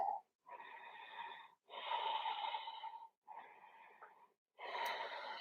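Slow, loud breaths through the nose during a held yoga pose in a vinyasa flow, four long airy exhalations with short pauses between them, close to the microphone.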